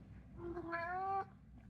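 A single cat meows once, a rising, drawn-out harmonic call lasting under a second, close and clear over a low room hum with no talking.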